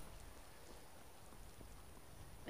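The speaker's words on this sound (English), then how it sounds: "It's raining like mad outside." Heavy rain falling outside on a cold gray day, a steady dense hiss of drops with no pauses, fairly faint and even throughout, with no voices.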